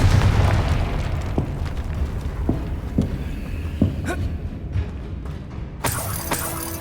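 Confringo explosive spell cast in the Hogwarts Legacy video game, giving sharp shattering blasts and booms over a dense, continuous game soundscape, with several distinct hits spread across the clip and a bright burst near the end.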